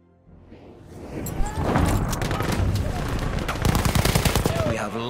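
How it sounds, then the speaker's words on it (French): Enemy machine gun fire in a video game, rising from quiet into a loud sustained rattle of rapid shots that continues to the end, with voices mixed in. "Mitrailleuse ennemie!"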